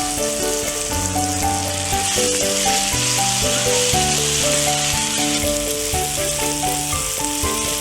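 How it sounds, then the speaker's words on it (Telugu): Onions sizzle in a pan while being stirred now and then, the base of an Andhra-style egg curry. The frying hiss runs steadily throughout, partly under louder background music. "బాగా ఫ్రై అయ్యేంత వరకు మనం మధ్య మధ్యలో మిక్స్ చేసుకుంటూ ఉండాలి."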